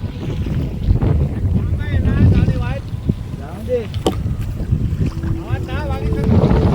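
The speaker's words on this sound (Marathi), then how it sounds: "आपली बोट उलट्या दिशेने म्हणजे रिव्हर्स गिअरला टाकून मागे मागे घेऊन जात आहे" A fishing boat's engine runs in reverse gear at sea while nets are set, giving a steady low rumble under heavy wind buffeting and water wash, with voices talking over it.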